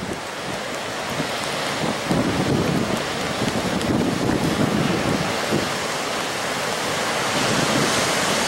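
Heavy surf pounds the rocky Oregon coast at Boiler Bay during a high surf advisory in fall, a steady, loud, broadband roar of breaking waves with no voices.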